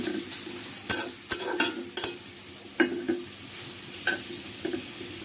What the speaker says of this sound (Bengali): পেঁয়াজটা বাদামি করে ভাজা হতে থাক